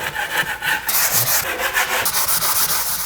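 Sandpaper of 220 grit rubs over a drywall patch in quick, rhythmic back-and-forth strokes, close and steady with brief pauses between passes.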